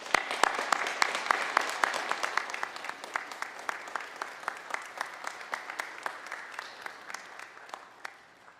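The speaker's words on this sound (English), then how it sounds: "give them applause for what they have done for you" Audience applause fills a Baylor Law winter commencement hall, steady dense clapping from many hands with sharp individual claps standing out, holding for several seconds before tapering slightly at the end.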